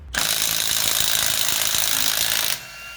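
A Milwaukee M18 cordless impact wrench on a 5.0 battery loosens a bolt with one loud, continuous hammering burst of about two and a half seconds, close up, before it cuts off.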